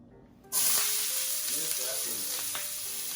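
Meat hits a smoking-hot stainless steel pan with oil. After a brief quiet moment, a loud, sudden sizzle bursts out and holds steady and close, with faint crackles underneath.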